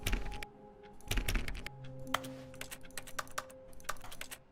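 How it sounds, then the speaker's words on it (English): Clicky keyboard-like taps from a video game come in quick irregular bursts, fairly close, over a soft background tone. "Why does everything sound like I'm hitting a keyboard?"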